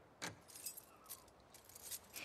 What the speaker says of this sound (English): Did you steal my keys?